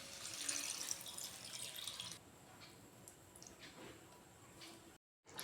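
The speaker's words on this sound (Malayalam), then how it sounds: "ഇനി നമുക്ക് ഇതിലേക്ക് നമ്മുടെ കടല വേവിച്ച വെള്ളം തന്നെ ആഡ് ചെയ്ത് കൊടുക്കാം." Chickpea cooking water poured into a simmering kabuli chana masala curry, a steady splashing pour for about two seconds that then fades to a quieter trickle and stops.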